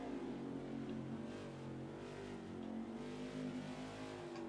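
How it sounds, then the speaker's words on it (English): Race car engine in the NASCAR 21: Ignition video game on the COTA road course, a steady droning hum at low volume that stays even without a clear rev or pass, with no talk. "Man, the car's just not taking off even."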